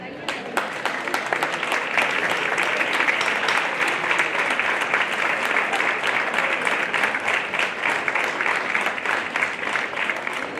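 Loud, sustained applause from a festival crowd for the members of a music group at a band concert in Mendavia, dense clapping continuing steadily throughout.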